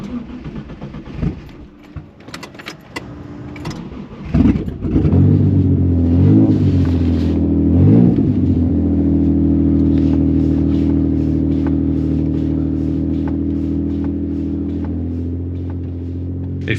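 A JDM supercar fitted with new intercoolers, revving in neutral. Clattering and cranking give way to a loud catch, then sharp rev blips, and the engine settles into a deep, steady, droning idle rumble heard up close.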